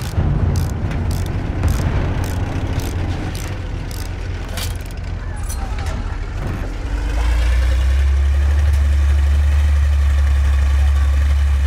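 An armored tank engine in Battlefield 1, a heavy rumbling idle that grows deeper and louder in the second half, with rapid clicking and battle noise above it and no clear talk.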